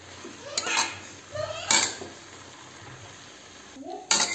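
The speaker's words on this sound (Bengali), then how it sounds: "নাড়িয়ে দেখবো সেদ্ধ হয়েছে কিনা ঠিক করে" Metal utensil scraping and clanking against a pot of cooking cabbage while it is stirred, a few distinct clattering strokes separated by quieter pauses, close and fairly loud.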